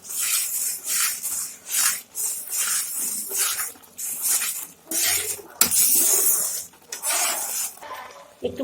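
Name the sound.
stirring cashews and raisins into carrot halwa in a pan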